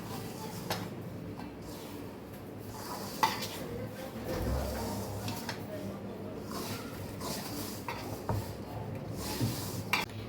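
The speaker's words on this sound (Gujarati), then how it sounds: "બધું સરસ આપણે મિક્સ કરીને લોટ બાંધી લેશું।" Farali flour is worked by hand into a dough with yogurt, potato, salt and a couple of spoons of oil in a bowl, giving soft close-up stirring and squishing with a few light knocks against the bowl.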